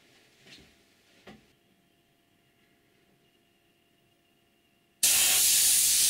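Compressed air drives a Tesla turbine with a simple load attached. After a few faint knocks and near silence, a loud steady hiss of air bursts in abruptly and holds to the end.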